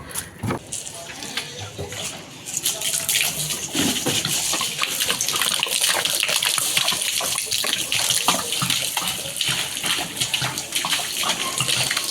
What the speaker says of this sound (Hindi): अब मैं पीने का पानी भर रहा हूँ।